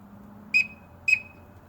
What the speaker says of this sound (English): You can actually call multiple different ducks with a little whistle there.